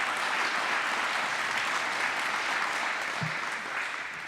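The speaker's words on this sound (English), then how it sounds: "let's get a round of applause for our candidates for jailer" An audience at a local election candidate forum applauds the candidates for jailer, with sustained, even clapping from a crowd filling the whole span and easing off slightly at the end.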